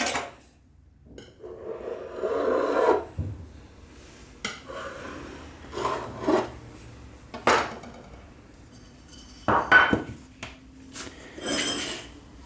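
Pastry dough for a caramelized apple-filled sablé cut into a round by running a tool around a large bowl, with clinks, taps and scraping knocks of bowl and utensils coming in irregular bursts over a quiet kitchen, no talking.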